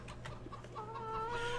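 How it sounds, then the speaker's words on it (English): Chickens clucking in the farming video game Farming Simulator 2013, a few soft clucks followed by a drawn-out tonal cackle over a low steady hum, fairly quiet and close. "So you need to feed the chickens."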